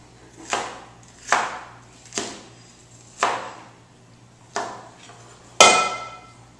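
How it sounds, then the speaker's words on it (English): Half an onion being coarsely chopped with a knife on a cutting board: six separate thudding cuts, spaced about a second apart, each with a short crunchy tail, close and clear. "So take half of this onion and just coarsely chop it."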